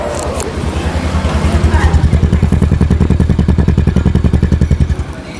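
A Honda Wave 125i motorcycle engine starts up and idles close by, its loud, steady chugging pulses thumping rhythmically.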